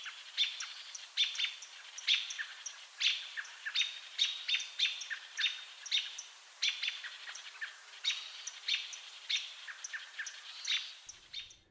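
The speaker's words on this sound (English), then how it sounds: "robins tend to give a yeep or chuck alarm call" American robin giving repeated sharp yeep or chuck alarm calls, a steady series of clear, fairly close chirps spread across the whole stretch, with no other sounds.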